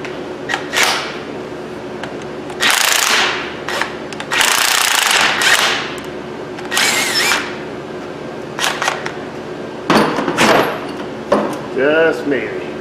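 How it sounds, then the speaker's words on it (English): A thread chaser run onto a threaded stud during Subaru wheel repair work, with several loud bursts of power-tool whirring separated by pauses, close up, alongside talking. "See if we get our thread chaser to whiz up on there."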